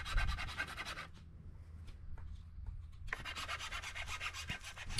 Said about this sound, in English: when I'm filing this down, it's taking a lot longer